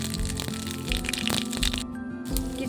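Cumin seeds dropped into hot oil in a wok crackle and snap in short, sharp bursts, close by, over a steady tonal background.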